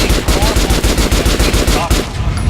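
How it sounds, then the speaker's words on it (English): Rapid automatic gunfire in Metro Last Light, fired at an armored target, rattling in a steady, loud, evenly spaced burst that runs without a break for the whole stretch. "Now shoot the armor down."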